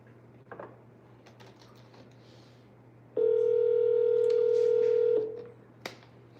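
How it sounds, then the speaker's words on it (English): A phone redialing: a few faint keypad beeps, then a steady loud dial tone holding for about two seconds before cutting off, with quiet room noise and no voices. "Redialing."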